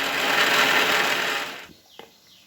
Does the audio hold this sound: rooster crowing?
no